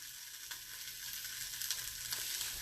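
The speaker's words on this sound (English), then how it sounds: "Let me get my meat separator since we were talking about it yesterday." Ground meat frying in a pan while a meat separator chops and breaks it apart, giving a steady close sizzle with scraping taps and clicks.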